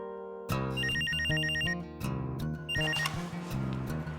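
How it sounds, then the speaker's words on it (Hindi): A phone ringtone plays a loud, repeating melodic electronic pattern in short bursts from a drama scene, with no talk over it. "फ़ोन तो उठाओ यार।"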